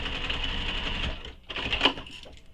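A sewing machine stitches a seam on a sling pack, running in a fast, close mechanical patter that pauses briefly, then resumes in a short burst.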